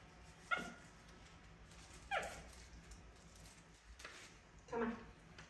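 A dog gives three short, sharp barks or yips spaced a couple of seconds apart, fairly close, over a quiet background with faint murmuring.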